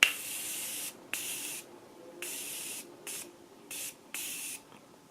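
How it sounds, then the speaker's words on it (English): Morphe Prep and Set makeup setting spray misting from an aerosol can in a quiet room: six short hissing bursts of varying length, separated by brief silences, close to the microphone. "I'm just going to use my Morphe Prep and Set Makeup Setting Spray to set my makeup"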